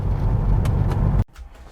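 A Nissan Largo Serena van on the move, with a steady loud rumble of engine and road noise that cuts off abruptly to quiet near the end.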